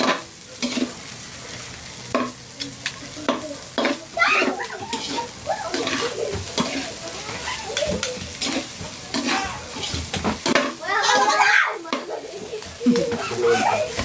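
Sangag, Filipino garlic fried rice, sizzles in a pan while a utensil scrapes and clinks against the metal in repeated stirring strokes, with people chatting nearby.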